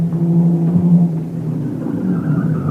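A car engine roars and revs in a radio drama sound effect, a loud low rumble with shifting pitch as the vehicle speeds through a town, heard alone without voices.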